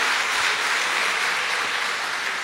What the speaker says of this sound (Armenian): Բարձր ծափահարություններ մեր նվագախմբի մասնակիցներին